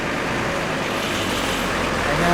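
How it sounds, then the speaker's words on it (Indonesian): An AJM Tulungagung bus sits at a quiet Jambi bus terminal, its diesel engine giving off a steady, close, broad rumble that swells slightly toward the end, with no talk. "Ini ada bus AJM Tulungagung"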